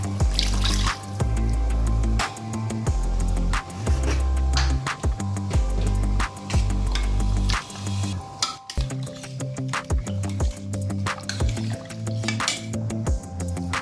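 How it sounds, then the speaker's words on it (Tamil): Water poured into a pot of coriander, mint and chicken for chicken biryani, splashing and dripping with light clinks of metal cookware, close and fairly loud throughout. "2 டம்ளர் தண்ணி ஊற்றிக்கலாம்."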